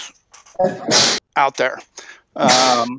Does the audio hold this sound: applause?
no